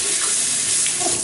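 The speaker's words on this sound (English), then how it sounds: "I'm going to wash my knife off again." Tap water running hard into a sink while a knife is rinsed between passes on a 3000-grit sharpening stone, a steady close, loud rushing hiss with no talking.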